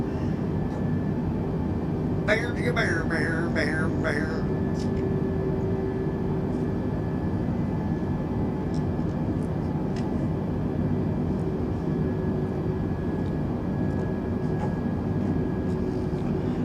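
Steady, droning jet engine roar of an Airbus A320 in flight in Microsoft Flight Simulator 2020, continuous and even, with a brief burst of faint beeping tones near the start.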